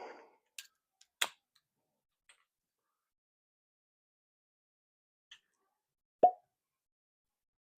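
A bottle of Old Carter whiskey, Batch 17, is opened amid near silence: a few faint ticks and clicks lead to a single soft, hollow pop of the cork near the end.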